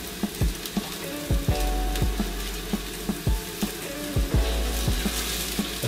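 Vegan potato scones fry in hot oil in a pan with a steady sizzle and crackle, while sharp spatula taps and scrapes against the pan recur every half second or so, close and fairly loud, with no voices.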